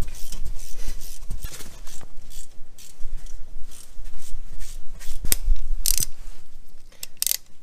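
Ratchet torque wrench tightening the front brake caliper bolts on a Peugeot Partner or Citroen Berlingo van, a series of close metallic clicks and ratchet rasps in short bursts, with a few sharp ticks near the end.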